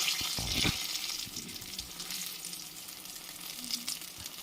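Potatoes frying in a pan for a home meal give a steady sizzle throughout, close and moderately loud, with a few brief clinks and stirring noises near the start.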